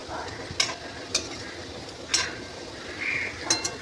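Homemade chanachur frying in oil on a low-to-medium flame, a soft low sizzle close by broken by a few distinct clinks of a spoon against the pan.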